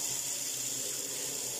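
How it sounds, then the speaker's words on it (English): Hot water running from a kitchen faucet into a sink basin, a steady, close hiss and splash with no voices. "I do have hot water running through the faucet here."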